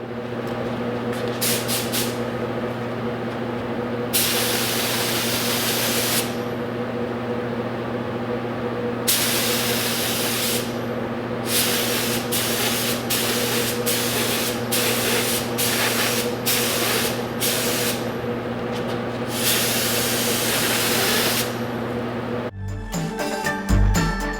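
Spray gun lays orange paint on a Kia Stinger GTS body in a paint booth: repeated bursts of loud hissing spray, some long and some short, over a steady droning booth fan, ending with brief handling clatter.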